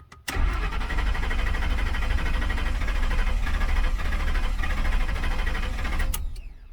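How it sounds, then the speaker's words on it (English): A 2005 Ford F150 with a failing fuel pump cranks continuously after a click, the starter churning in a fast, even rhythm for about six seconds without catching, then stopping with a clunk, close and loud. "So let's try cranking it."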